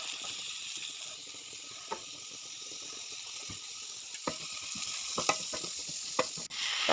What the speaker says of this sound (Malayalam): ഇനി അതേ പാനിലേക്ക് കുറച്ച് വെളിച്ചെണ്ണ ഒഴിച്ചിട്ട് സവാളയും കുറച്ച് കറിവേപ്പിലയും കൂടെ ചേർത്തിട്ട് നന്നായിട്ടൊന്ന് വഴറ്റിയെടുക്കുക